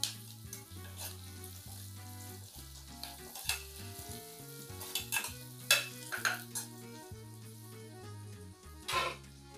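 A vegetable curry of ridge gourd and chickpeas sizzles in a pan as red chilli and chana masala powder are stirred in, with a soft steady frying hiss and repeated close spoon scrapes and clinks.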